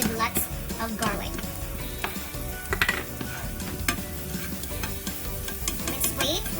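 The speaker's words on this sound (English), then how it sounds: "Let's wait for our garlic to turn light brown" Minced garlic sizzles in a pan, a steady crackling hiss with occasional clinks of a utensil stirring, close and fairly loud throughout with no talk.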